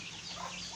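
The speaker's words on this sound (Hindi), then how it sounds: "आपको दिखाएं हम मुर्गे अपने" Brief, soft clucking from Aseel chickens in a small backyard poultry setup, a short fowl call heard faintly at close range.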